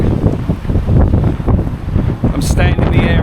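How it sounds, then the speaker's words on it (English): Strong wind in the old churchyard of St Ricarius Church in Leeds buffets the microphone in loud, continuous low-frequency rumbling gusts, with a brief brighter rustle near the end. "It's very, very windy, I do apologise."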